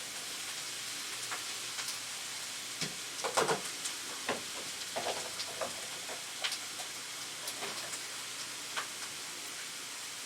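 Green onions and mushrooms cook in a pan for a beef and cheese ravioli lasagna, giving a soft, steady sizzle with scattered light taps and scrapes of stirring throughout.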